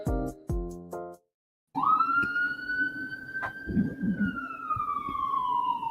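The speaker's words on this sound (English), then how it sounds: "That siren is so poorly timed" An emergency vehicle siren wails outside, rising in and holding a steady, loud tone over street rumble for several seconds, following a few short musical stabs and a brief silence.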